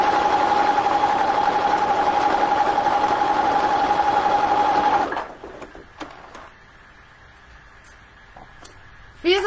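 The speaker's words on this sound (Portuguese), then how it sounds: "Vou costurar esse pedacinho de tricoline." Sewing machine stitching a small piece of tricoline cotton fabric, running with a steady loud hum for about five seconds before stopping, then quieter handling noises and brief talking at the end.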